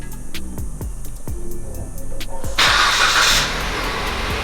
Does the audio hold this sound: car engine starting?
yes